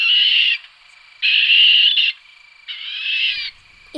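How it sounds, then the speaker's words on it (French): A barn owl gives three long, harsh, hissing screeches, loud and close, separated by short silences. "C'est l'effraie des clochers."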